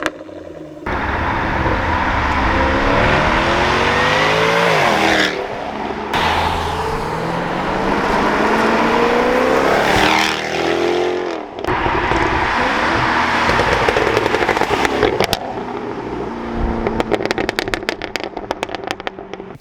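A Jaguar F-Type R with its factory exhaust roars loudly and close, rising revs broken by short gaps, then sharp crackling and popping bursts on the overrun toward the end.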